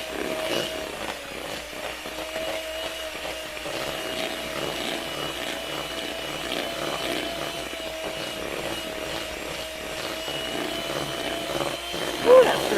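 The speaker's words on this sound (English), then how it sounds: "I'm going to mix this together with my mixer here." An electric hand mixer creams peanut butter cookie dough in a bowl, giving a steady, loud motor whine that holds for the full stretch with a slight bump near the end.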